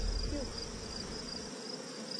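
Bees buzz around a leaf in a steady, close drone that holds for a couple of seconds before thinning out, with no clear talk over it.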